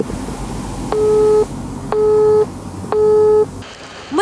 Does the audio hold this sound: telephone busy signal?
yes